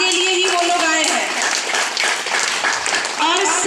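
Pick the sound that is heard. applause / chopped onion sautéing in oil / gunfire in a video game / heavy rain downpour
applause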